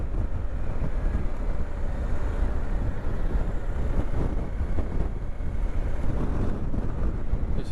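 Steady, loud wind roar buffets the microphone while a BMW GSA 1250 motorcycle rides a Scottish road loop, a dense low rumble of gusts and engine with no talking.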